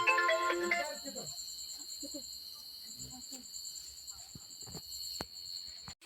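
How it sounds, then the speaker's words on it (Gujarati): A mobile phone ringtone for an incoming call sounds throughout as a steady high electronic tone, opening with a brief melodic burst, while voices talk quietly underneath. "હા મારો ફોન આવેલો છે"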